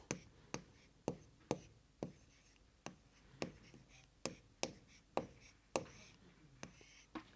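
Pen strokes on paper form a regular series of about a dozen sharp taps and scratches, close and clear, made while writing the number 279 in Hindi words during a class 3 maths lesson. There is no talk.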